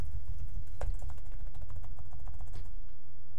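Quick, irregular clicks of fingers typing on a computer keyboard sound close and clear, with bursts of keystrokes and short pauses over a low background hum.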